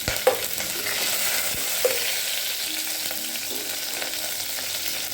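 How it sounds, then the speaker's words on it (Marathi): Green chilies and garlic fry in hot oil for a yogurt kadhi, giving a continuous bright sizzle punctuated by a few sharp stirring knocks, close and with no talking. "आता आपल्याला आपली हिरवी मिरची आणि लसूण तेलामध्ये थोडा भाजून घ्यायचा आहे"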